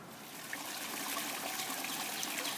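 Water trickles quietly and continuously into a backyard pond, a soft, even babbling with no voices over it.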